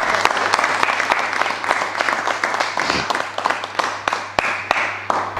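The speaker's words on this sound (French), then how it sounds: "On peut l'applaudir." Audience applause for a speaker at a panel discussion in Lyon, moderate clapping with distinct individual claps standing out, thinning into scattered claps over about five seconds, with a steady hum underneath.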